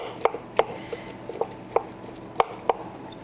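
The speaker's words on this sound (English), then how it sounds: "We're going to take our knife and just start chopping a little bit." A knife chops barbecued pork on a board: about eight sharp, distinct chops at an uneven rhythm, close and moderately loud, with no talking.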